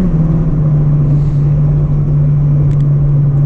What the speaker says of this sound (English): when you get to like 5K, the VTEC kicks in, and then you just like, this freaking shoves you in the back